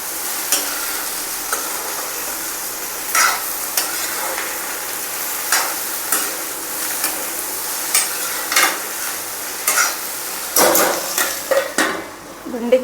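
Okra bhujia sizzling in a pan while a spatula scrapes and stirs it at a steady rhythm, metal clinks on the cookware, close and fairly loud, with a lid clatter near the end.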